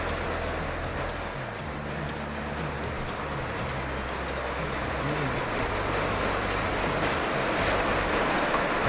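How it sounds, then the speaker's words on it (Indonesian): Steady rain hiss fills the whole stretch, a constant broadband wash with low rumbling underneath, heard at a small roadside chicken satay stall. "Nggak apa-apa ya, sound efeknya hujan-hujan ya."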